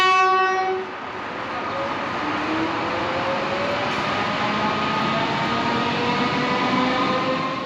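Comeng evaluation electric train slowing through Williams Landing station platform, a close, steady rumble with a horn blast at the start and a falling motor whine as it decelerates.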